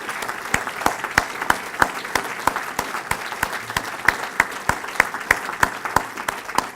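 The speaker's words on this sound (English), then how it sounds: "give Courtland a big round of applause for that great work" Steady applause from a crowd at an annual dinner, many hands clapping at once in an even, sustained patter that carries on throughout without voices.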